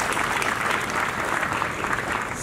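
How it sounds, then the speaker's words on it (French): Steady applause from a crowd fills the moment, continuous and fairly loud with no voices. "et je voudrais aussi qu'on les applaudisse."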